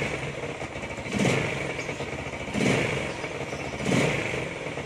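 Rusi Flash 150 motorcycle engine, freshly carb-tuned, running loud and close with three short throttle blips rising over a steady idle, no voices.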